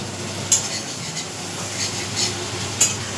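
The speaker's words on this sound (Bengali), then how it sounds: "আলু ভাজা করছে, মুড়ি দিয়ে খাবে" Potatoes frying and being stirred in a pan in a home kitchen: soft steady sizzle under occasional sharp scrapes and clinks of a utensil against the pan, close and quiet.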